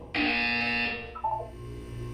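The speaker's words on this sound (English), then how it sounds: "When you hear the buzzer, look down at the floor." A loud electronic buzzer blares for about a second in a single harsh tonal burst, then fades into a lower lingering hum, with no talking.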